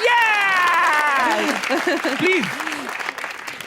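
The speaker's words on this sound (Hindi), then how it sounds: "तालियां." Audience applause and cheering at a live Pakistani talk show, a broad wash of clapping under a host's amplified speech that fades toward the end.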